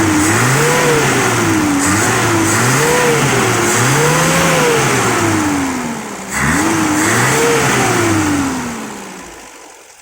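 Motorcycle engine revved repeatedly after its carburetor was cleaned and fitted with a new repair kit, gasket and jet, rising and falling in close loud bursts, a brief dip, then winding down toward idle.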